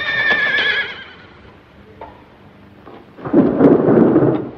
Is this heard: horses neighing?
yes